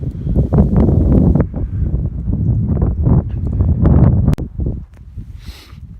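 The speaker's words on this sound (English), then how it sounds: "The wind picked up" Wind picks up outdoors in a cold, snowy spot, with steady low rumbling gusts buffeting the microphone that ease off near the end.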